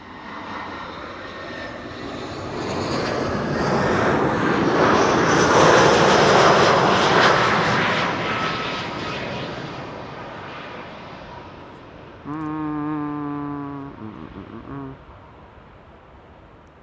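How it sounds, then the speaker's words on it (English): A propeller aircraft passes low overhead at Amsterdam Schiphol Airport, its droning engine swelling loud, peaking, then fading away over many seconds, with a brief tonal hum joining near the end. "I'm also hearing something with a propeller."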